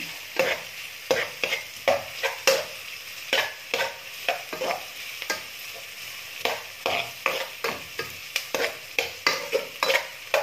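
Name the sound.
stirring and sautéing in olive oil in a pan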